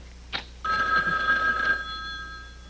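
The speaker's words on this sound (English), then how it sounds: "The phone rings" A telephone rings with one sustained electronic trill of about a second after a brief click, fading into a quiet room hum, in a sitcom scene.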